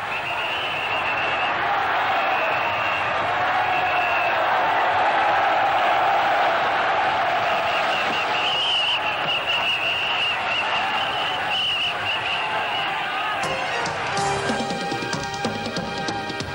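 An immense crowd at the Onbashira festival of the Suwa shrines roars and cheers continuously, a dense wash of voices and applause with whistles and shouts rising above, heard from within the throng.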